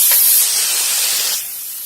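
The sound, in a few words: pecans sizzling and splattering in melted margarine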